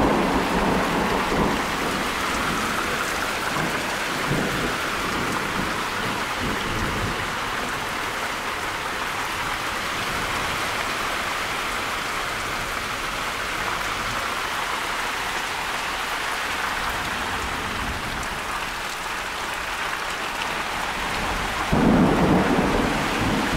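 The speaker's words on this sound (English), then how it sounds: "That is one hell of a storm." Intense thunderstorm in north-eastern Texas, with heavy rain pouring steadily on surfaces throughout and deep rolling thunder rumbling underneath, swelling in a loud burst near the end; no voices.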